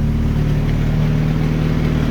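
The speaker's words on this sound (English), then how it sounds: "Nice little cold start there." A 1975 MG Midget engine, just fired up from cold, runs at a steady, loud idle with a constant low hum and no breaks.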